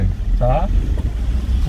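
A car engine rumbles low and steady as the driver accelerates during a manual-transmission driving lesson, heard under a person's brief speech.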